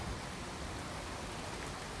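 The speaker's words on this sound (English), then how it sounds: "it's tipping it down with rain" Heavy rain pours steadily in the video game Skyrim, a dense, even hiss of falling water filling the scene with no voices.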